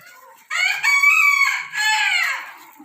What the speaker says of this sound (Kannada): ಕೋಳಿಯ